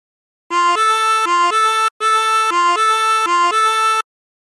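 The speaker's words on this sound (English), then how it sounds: "practice this until you end up with something that sounds like this" Harmonica plays a phrase of the Turkey in the Straw melody, single reedy notes alternating in a bouncy rhythm, loud and close, in two runs with a short breath gap between them.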